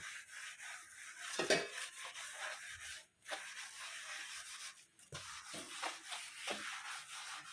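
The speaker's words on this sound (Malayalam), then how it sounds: "ആ ഇഞ്ചിയൊക്കെ ഒന്ന് വെറുതെ ചതച്ചിട്ട് നമുക്ക് ആ ഇഞ്ചിയോട് കൂടിയിട്ട് ഇങ്ങനെ തേച്ച് കൊടുത്താൽ മതി" Crushed ginger is rubbed onto a hard surface in close, scratchy strokes, stopping briefly once or twice, with no talking.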